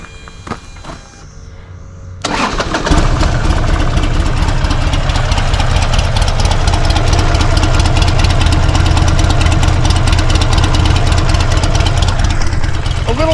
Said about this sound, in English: it's an amazing motorcycle. Of course, I got to fire this thing up for you guys.